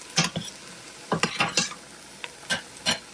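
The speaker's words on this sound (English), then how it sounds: "Okay, I'm letting these saute." Vegetables sautéing in a pan for Southern-style black-eyed peas: soft sizzle under a series of sharp scraping and clinking spatula strokes against the pan, irregularly spaced, with no talk.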